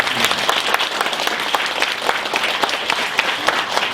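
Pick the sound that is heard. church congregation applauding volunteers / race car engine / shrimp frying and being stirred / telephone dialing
church congregation applauding volunteers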